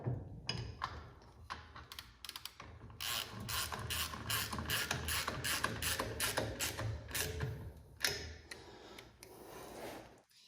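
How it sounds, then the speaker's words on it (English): Ratchet tightening a nut on a Ford Model A, with quick bursts of rapid clicking repeated through the clip at close range, broken by short pauses. "Now we can start to tighten this up."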